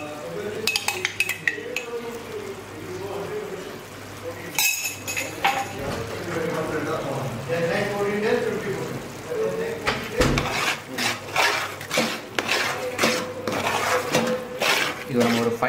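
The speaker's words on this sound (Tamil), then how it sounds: "இது நம்ம ஒரு 5 மினிட்ஸ் தான் ஜஸ்ட்டு கிளறணும்." A spoon stirs ginger garlic paste in a metal pot for Bhai-style biryani, producing repeated clinks and scrapes against the pot that come irregularly and grow busier toward the end.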